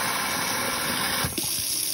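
Tap water runs steadily into a kitchen garbage disposal that is breaking up an egg, a close continuous gushing hiss with a brief gurgling dip near the end.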